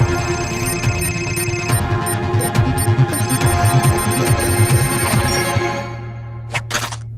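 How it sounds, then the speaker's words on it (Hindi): A telephone rings with a bright, insistent electronic tone over a busy musical background, cutting off near the end. "देखो तुम्हारे लिए किसी का फोन आया है"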